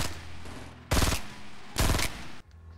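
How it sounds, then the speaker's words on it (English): Two loud, close bursts of automatic fire from a burst assault rifle in Fortnite, each a rapid three-shot volley separated by a short pause, over a steady game background hum. "if you look at this burst, it comes out 3 shots at a time."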